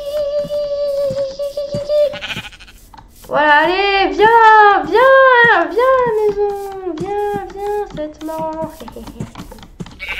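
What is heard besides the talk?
sheep bleating in the video game Minecraft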